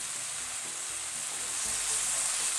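Eggplant, zucchini and squash wedges sizzle in a pan with a continuous soft, dense hiss that swells slightly near the end. No voices are heard.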